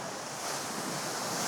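Water surging at a resort pool or beach in Alanya, a brief broad wash of splashing and surf noise with wind buffeting the microphone, steady and fairly loud, no voices.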